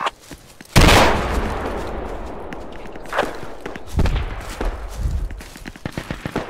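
A loud gunshot in Project Reality, set in the Falklands War, cracks out and rolls off, followed by scattered distant shots and thuds over a busy battlefield background with no talk.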